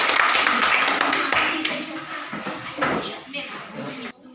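Schoolchildren in a classroom in remote Amfoang Tengah, Kupang, clap their hands after a group presentation, a dense burst of overlapping claps that thins out toward the end, with some chatter and room clatter mixed in.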